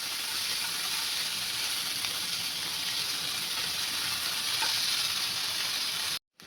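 Salted tomatoes sautéing in a pan for a chutney give off a steady, even sizzling hiss that runs unbroken at moderate loudness, cutting out abruptly just before the end.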